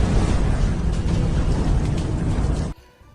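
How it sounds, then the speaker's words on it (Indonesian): A car explodes beside a bank in a film scene, giving a loud, dense, sustained roar that fills the whole space for nearly three seconds before it drops abruptly to quiet. "Sebuah mobil yang berada tepat di samping bank itu meledak"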